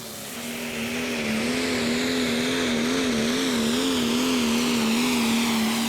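A Valtra Prostock tractor with new cylinder heads and a new fuel pump roars at full power during a Eurocup tractor pull in Herning, Denmark, a loud, sustained engine drone with a wavering pitch that holds steady throughout.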